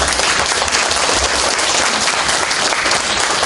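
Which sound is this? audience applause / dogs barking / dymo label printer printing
audience applause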